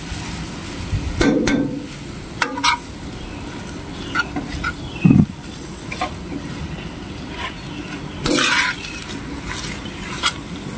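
Homemade ground meat frying in a pan while it is stirred, a low continuous sizzle broken by scraping and clinking spoon strokes at irregular moments; close, no talking.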